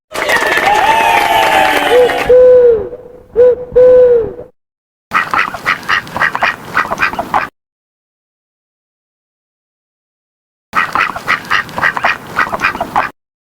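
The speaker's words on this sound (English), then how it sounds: "duck" A duck quacks loudly and close by in two bursts of rapid, raspy quacks separated by several seconds of silence, after a few trailing owl hoots at the start.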